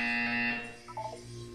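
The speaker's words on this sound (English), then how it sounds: "You will hear a buzzer." A harsh, electronic buzzer blares in the video game Portal 2, a loud sustained tone that fades after about half a second and is followed by softer warbling electronic tones.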